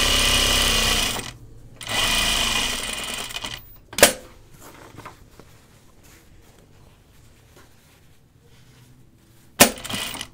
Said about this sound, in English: I always start a few stitches and like make sure my machine's got a hold of it really well